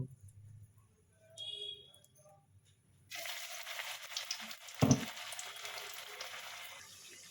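Spinach fritters (palong shak bora) spiced with nigella, carom and radhuni seeds frying in a pan; quiet kitchen sounds give way to a sudden, close, steady sizzle that continues to the end.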